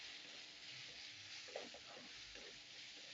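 Ground chili paste sautés in hot oil, a faint continuous sizzle and crackle with a few soft stirring scrapes, quiet and close.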